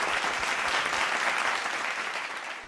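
Loud, sustained applause from a studio audience at a Kannada singing reality show, honoring two singers, a dense steady wash of clapping with no talk.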